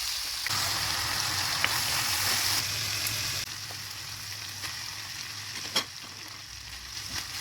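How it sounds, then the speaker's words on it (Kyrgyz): Meat frying in oil in a cauldron, sizzling steadily and loudly throughout, with a brief clink of stirring near the end. "Эми казанга май куюп, этти кууруп баштадык."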